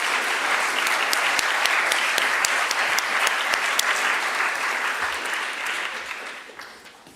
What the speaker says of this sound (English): Could we give the panel a round of applause